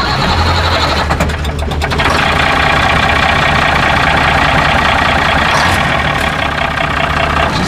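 A 1959 B-Model Mack truck idles loudly and close at a classic truck show, its heavy engine chugging in a steady low rumble with a rattling, knocking edge throughout.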